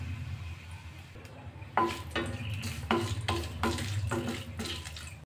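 Whole cardamom pods, cinnamon, cloves and a bay leaf fry in oil for a paneer gravy, giving a steady close sizzle broken by a run of regular stirring scrapes, with no talking.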